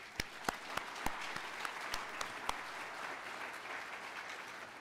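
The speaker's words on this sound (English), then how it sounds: "So I applaud you guys." Audience applause at a spring nurse pinning ceremony: a steady wash of many hands clapping, with a few sharp, close claps standing out early before the sound settles into even, sustained clapping.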